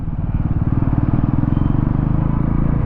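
A Bajaj Pulsar NS 400Z 400cc motorcycle engine drones steadily while riding, a close, loud, continuous throbbing rumble with an even pulse and no pauses.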